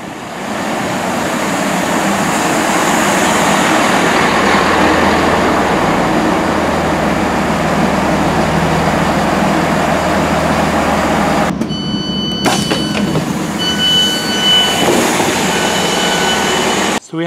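A Great Western Railway train runs from Mortimer toward Bramley in Hampshire, a loud, continuous rumble and rush of wheels and motion. Near the end it gives way to sharp clicks and a few high tones.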